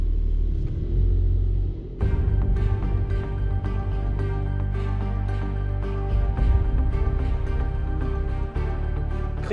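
Porsche 911 Sport Classic starting and pulling away, a deep, steady engine rumble that stays loud and close throughout, with a slight rise in revs as the car moves off.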